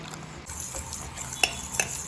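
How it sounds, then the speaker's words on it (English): Rice flour and thick coconut juice being stirred into a thin batter for Goan dodol, soft swishing and scraping in a container with two sharp clinks of a spoon against the side. "Mix this nicely to make a nice thin batter. Stir in till it is nice and smooth."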